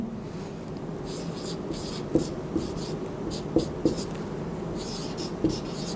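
Pen strokes on paper while an algebra term is written out in a maths lesson, faint scratchy rubbing with a few soft taps, steady and close under a quiet room hiss.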